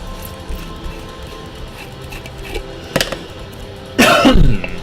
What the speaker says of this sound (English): Cough splutter.